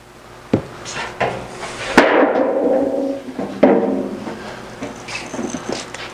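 A hammer strikes sheet metal laid over wooden 2x8s to shrink it. There are a few sharp, ringing metallic blows spaced apart, with a scraping, rumbling workshop noise between them.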